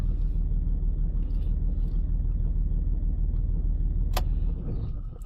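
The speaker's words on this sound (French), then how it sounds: "là je démarre la voiture" A car engine runs with a steady, loud low rumble close by, holding an even idle before a brief sharp click and a slight drop in level near the end.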